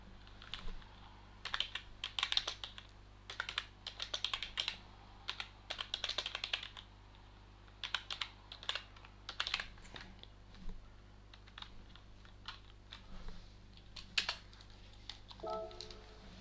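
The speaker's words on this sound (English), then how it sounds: "I'm just going to type a message." Rapid bursts of clacking keys as a message is typed on a computer keyboard, in irregular clusters with short pauses, fairly close, over a steady low hum, with no talking.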